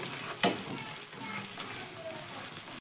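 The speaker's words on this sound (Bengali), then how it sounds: "অল্প অল্প করে তেল দিয়ে কিন্তু আমি এখানে ভাজছি" Paratha frying in a little oil in a pan, giving a steady close sizzle with brief scraping or stirring touches, and a voice talking faintly underneath.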